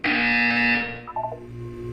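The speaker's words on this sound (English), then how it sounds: "You will hear a buzzer." A loud, steady electronic buzzer from the video game Portal 2 blares for about a second, then cuts off into quieter electronic tones and a low hum.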